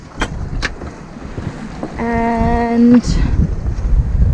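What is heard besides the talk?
sailboat under headsail in squally wind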